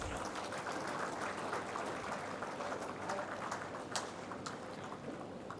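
Round of applause from the audience at the India Defence Conclave 2024: fairly faint, steady clapping that carries on throughout, with a few sharper claps standing out near the end.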